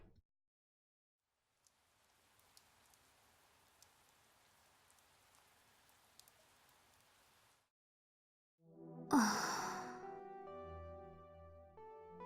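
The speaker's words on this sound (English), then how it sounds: "The rain had started to fall" Soft rain falls in the visual novel game Chaos;Child, a faint, steady patter that lasts several seconds. It stops into silence, and then a louder, separate tonal sound begins.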